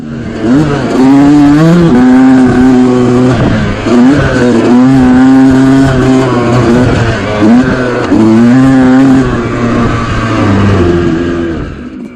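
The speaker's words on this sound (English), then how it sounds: "When a 2-stroke engine is on the pipe, it has a very distinctive sound like this." A two-stroke Yamaha YZ125 dirt bike engine screams at high revs on the pipe in repeated rising bursts, loud and close, with brief dips between pulls.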